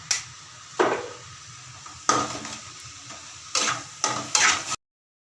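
Vegetables for egg kothu chapati sizzle in a pan with ground pepper while a spoon scrapes and clinks against it in several bursts of stirring, close by, with no talking.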